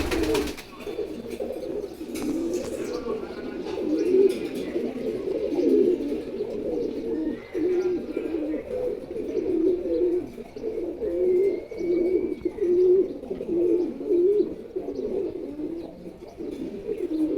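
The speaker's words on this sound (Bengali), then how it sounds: "নিচে আছে হচ্ছে খাকি কবুতর জোড়া" Pigeons, including a khaki pair, coo repeatedly in soft, throaty murmurs, a steady overlapping burble from nearby birds with faint chirps in the background.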